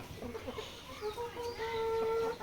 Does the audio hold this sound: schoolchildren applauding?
no